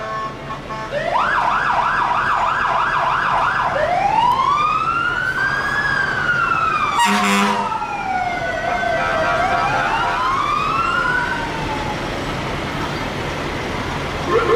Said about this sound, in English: we got the Minneapolis ambulance. We also got the whole Minneapolis fire department